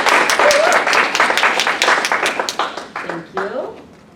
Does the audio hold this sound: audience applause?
yes